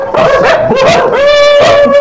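A dog yips and whines loudly in sharp, high-pitched bursts, close up and continuous.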